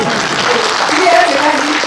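Audience clapping during a talk, a loud, dense and even applause with some tonal voices mixed in, sustained across the short stretch.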